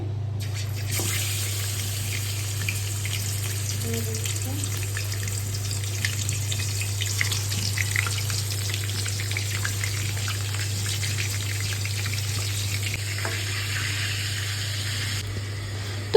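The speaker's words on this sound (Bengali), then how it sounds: "পেঁয়াজের তেলেই কিন্তু আমি এখন রোস্টটা ভেজে নিচ্ছি" Pieces of chicken roast fry in onion-flavoured oil, giving a steady, even hiss that holds loud and unbroken close by for the whole stretch, with a constant low hum underneath and no speech.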